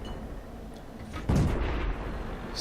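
In World of Tanks, a tank cannon fires with one muffled, low boom partway through, over a steady rumbling battle ambience, with no talk.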